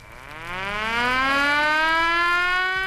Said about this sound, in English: tested his fire siren